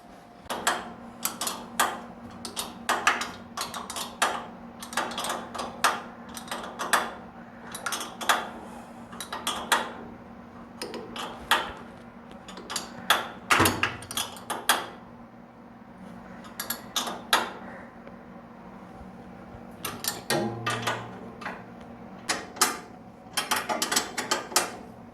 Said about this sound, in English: now I'm gonna tighten up the 2 bolts on this one